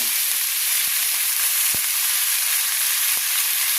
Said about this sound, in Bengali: এবার পালং শাকটা দিয়ে দিই।